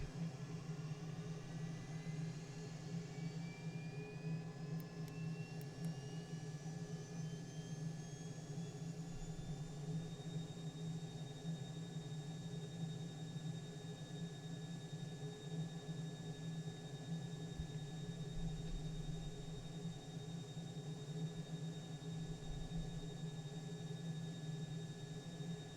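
An L39 Albatros jet's auxiliary power unit spins up in Microsoft Flight Simulator, giving a continuous loud turbine roar with a rising whine that climbs and then holds steady, with no one talking.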